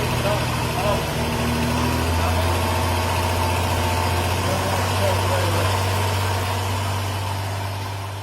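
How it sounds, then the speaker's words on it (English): A Jeep XJ engine running steadily after its first start, a loud, close idle with a constant low drone, and a brief voice partway through. "So as you can hear, the first start went incredibly well. The motor sounded phenomenal."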